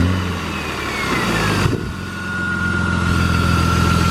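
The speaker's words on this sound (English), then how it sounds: "Right now we're about to start the car. First startup after the tune-up." A car engine cranks and fires up on its first start after a tune-up with fresh oil, settling into a loud, steady close-range idle with a slightly rough running note.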